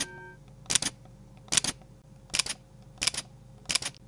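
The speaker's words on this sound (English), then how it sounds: "This is X-T5 with the mechanical shutter." A Fujifilm X-T5 fires its mechanical shutter five times, each shot a crisp, close double click spaced under a second apart, with quiet room tone between.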